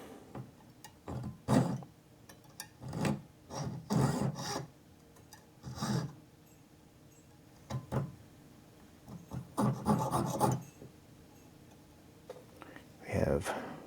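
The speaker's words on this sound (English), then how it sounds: "I'm just roughing up the surface." A turquoise nugget's surface is roughed up with a file or abrasive tool to help epoxy grip, heard as short, close rasping and scraping bursts at an irregular pace, fairly quiet.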